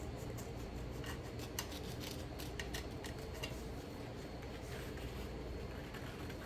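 Scissors snipping paper while cutting out a DIY box template, a steady run of quick, soft cuts and paper rustle, close up but quiet, with no talking.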